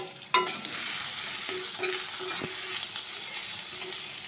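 Turmeric, coriander and cumin powder fry in hot oil in a pan for a potato curry, giving a steady close sizzle with stirring scrapes and a sharp clatter near the start.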